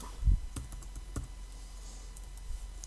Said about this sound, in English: let me type in the whole thing, text edit